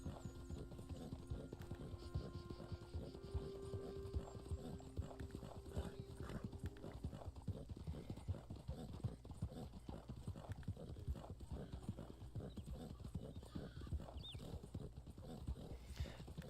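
A horse gallops in Red Dead Online, a player's fully bonded level-4 mount. Its hoofbeats are steady and rhythmic throughout, with a brief faint whinny.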